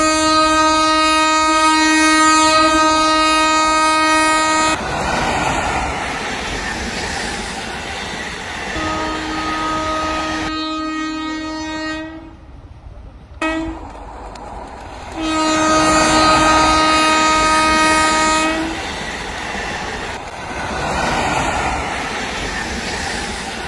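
A train on a CRS speed test over the new double track between Nanguneri and Valliyur sounds long, loud horn blasts several times over a heavy rumbling roar as it passes close by.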